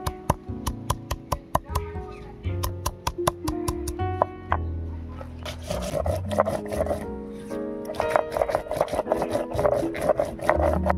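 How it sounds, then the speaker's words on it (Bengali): Green chillies are ground by hand on a grinding stone for a smoky taro root dish. Close, rhythmic scraping strokes are heard, sharp and regular at first, then quicker rubbing passes. "এবারে লঙ্কাগুলো বেটে নেব।"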